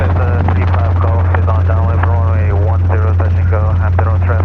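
A Robinson R22 helicopter in flight during a training lesson, its loud steady rotor and engine drone filling the cabin while people talk over it throughout.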